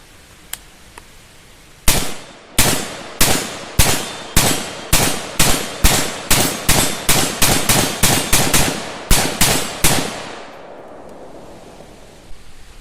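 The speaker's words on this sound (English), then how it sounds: "take it back to 50 yards and make a couple more adjustments to the red dot and then dump some mags with it" A PSA PTAC AR-15 rifle from a budget complete kit, fitted with a red dot, fired at an outdoor range: about twenty loud, sharp shots in a fast, fairly even string, each ringing briefly, ending with an echoing tail.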